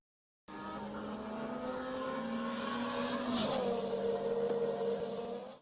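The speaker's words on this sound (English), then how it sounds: "The air is filled with excitement and the loud noises from their power engines." Race cars speed past on a racetrack, their loud engines roaring in one continuous, steady blast that swells slightly as they pass close by, with a brief tire squeal midway and no voices.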